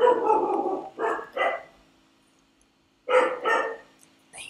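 A dog barks indoors in loud, close bursts: a cluster of several barks, a pause of over a second, then another pair and a final clipped yap, with no talking.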